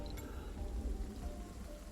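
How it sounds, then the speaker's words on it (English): Acid rain falls in the Surviving Mars video game, a soft continuous hiss of rain that stays fairly faint and even, alone with no talk. "Hello, Acid Rain."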